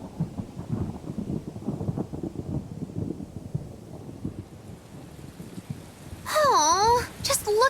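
Steady rain and rumbling storm noise in the video game Tales of Bersia fill the scene evenly, joined near the end by a loud, warbling rising-and-falling call.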